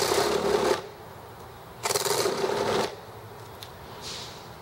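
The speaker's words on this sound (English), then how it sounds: "And let's grind to the line. Close this, turn it over, and that way I have room to run the Dremel like this." Dremel rotary tool grinding metal to a marked line during generator set assembly, heard as three separate buzzing bursts with short pauses between them, the middle one the longest, fairly close.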